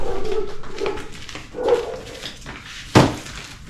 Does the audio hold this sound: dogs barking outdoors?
yes